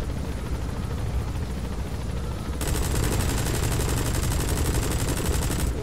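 A helicopter in the video game Metal Gear Solid V: The Phantom Pain, loud rotor and engine roar with a dense rumbling burst as it climbs, a sharper whining layer joining partway through, no talk.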